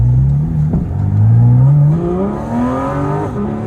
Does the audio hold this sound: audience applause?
no